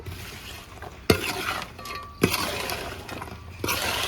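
Fried fish and chilli pickle scraped and stirred in a pot, a bed of soft scraping broken by three sharp spoon knocks against the vessel at roughly even intervals, close and fairly loud.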